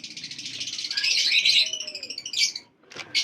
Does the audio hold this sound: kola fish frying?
no